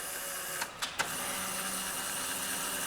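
The back gauge of a used Wysong model 1072 mechanical shear, 10 gauge by 6 feet, is adjusted: a steady motor whir with three quick clicks near the start, close and moderately loud, with no talk.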